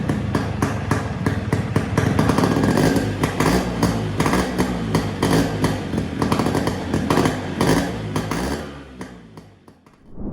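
Yamaha RX100 two-stroke motorcycle exhaust note, a loud, continuous, rapidly pulsing engine sound held close up for about ten seconds, then dropping briefly near the end before rising again.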